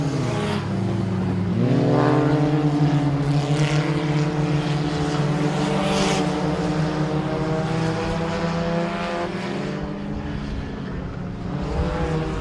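Front-wheel-drive four-cylinder race cars in a heat race at Sabine Speedway, their engines droning loudly and continuously with rising and falling pitch as they pass and accelerate, heard alone without talk.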